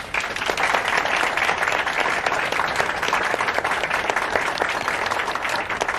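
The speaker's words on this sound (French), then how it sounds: "Et maintenant, je vous demande d'applaudir Fabiola" An audience applauds steadily, dense clapping from many hands sustained throughout without pause, fairly loud and close.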